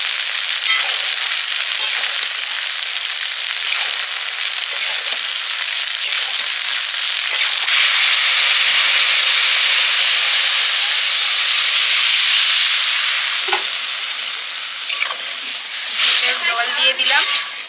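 Curd poured into a hot pan bursts into a loud, continuous sizzling hiss that holds steady and then eases slightly, with faint clatter and brief voices near the end.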